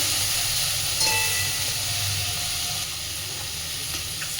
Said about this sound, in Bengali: আলু আর পেঁয়াজকালিটা বেশ অনেকটা ভাজা হয়ে এসেছে